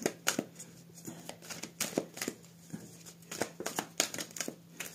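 Tarot cards are shuffled close up in a quiet room, a run of sharp riffling snaps and soft flicks in irregular bursts, fairly faint overall.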